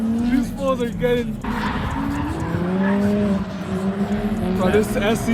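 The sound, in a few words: drift car engine with tire squeal at drift event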